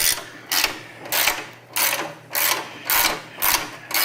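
A hand ratchet works loose a fender bolt on a motorcycle bagger, giving seven evenly spaced bursts of rapid clicking, each roughly half a second long, close up with no talking.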